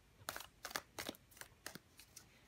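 Tarot cards being shuffled by hand, heard as a series of quick, crisp riffling bursts at a fairly steady rhythm, soft and close with quiet pauses between.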